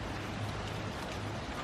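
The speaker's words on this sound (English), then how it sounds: "We have actual rain" Light rain falling in Benidorm, Spain, a soft, steady hiss of drops that stays even and faint throughout, with no voices.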